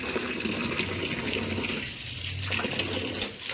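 Water gushes and splashes steadily as it is poured out over a dirty, muddy floor area, a close and continuous rushing sound with a few small fluctuations and no talking.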